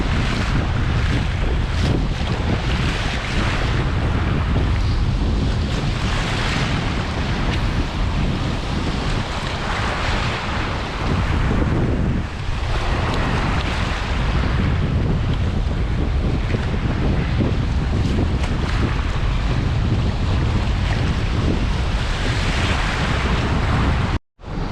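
Strong wind and sea waves surround a small fishing boat during a sea trout fishing day, a loud continuous rush of wind buffeting with churning water, no voices.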